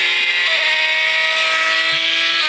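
A gated-manual V12 supercar engine revving steadily at high pitch, loud and close, holding a sustained whining drone without pause.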